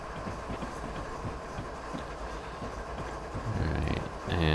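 Simulated train rolling along Marias Pass in Train Simulator, heard from inside the cab: a continuous low rumble with faint rhythmic clicking of wheels over rail joints, growing louder toward the end, no talking.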